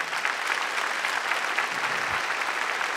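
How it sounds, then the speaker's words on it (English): An audience at an on-stage conversation event gives sustained applause, a dense, even wash of many hands clapping at moderate volume with no talk over it. "thank you for giving us a round of applause"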